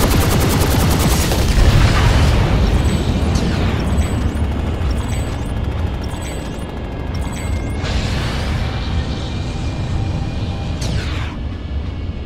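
Dense, continuous gunfire and heavy explosions from a large Planetside 2 battle around a construction base and silo, a loud unbroken roar of booms and rapid shots throughout with no pauses.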